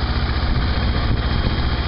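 A motorcycle engine idles close by, a steady low rumbling drone with even vibration and no break, heard alone without speech.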